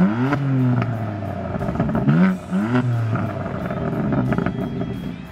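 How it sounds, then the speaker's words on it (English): A BMW M4 exhaust rumbles and revs in short bursts, with rising and falling engine pitch, loud and close, then settles into a steady idle growl. "I'm gonna take you guys around back real quick just to hear the exhaust note."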